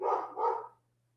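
Dogs bark twice in quick succession, loud and close, then fall silent over a low steady hum.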